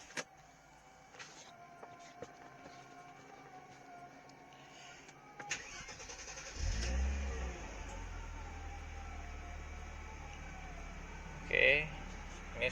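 A Mercedes-Benz W124 E320 with its inline-six converted to run on CNG cranks and starts, then settles into a steady idle with a low rumble. A brief higher-pitched whine comes near the end.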